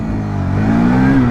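A Hero Xtreme 160R 4V motorcycle engine rising steadily in pitch as it pulls away under throttle, a close, continuous mid-toned drone that swells slightly louder toward the end.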